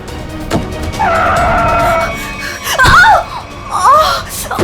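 Car tires squealing in a skid during a near collision on a road, a long screech followed by two shorter squeals, loud and close, with voices talking and shouting around it.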